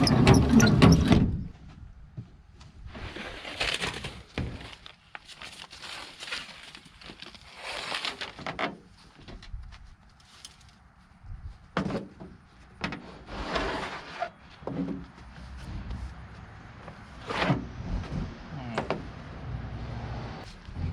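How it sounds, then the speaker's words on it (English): A door window on a 1988 Chevrolet Suburban squarebody is rolled up and down, giving several close scraping, sliding bursts of varying length separated by short pauses. "As you can see, we roll the window up and down."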